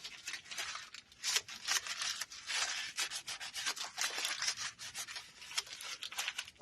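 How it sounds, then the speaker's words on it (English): Cloth rubbing and wiping excess spray paint off a painted surface, a steady run of brisk scratchy strokes heard up close with no talking. "Let me grab something to kind of clean off a little bit of the excess paint."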